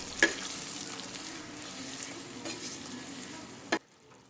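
Flat beans are stirred in a pan with a paste of green chili, coriander leaves, mustard and poppy seed. A soft, continuous sizzle and scraping carry under a sharp clack at the start and another just before the sound stops.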